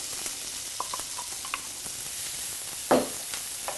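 Carrots and diced white onion sauté in a little oil in a hot pan for a stuffing, giving a steady soft sizzle with light stirring scrapes and one louder clatter near the end.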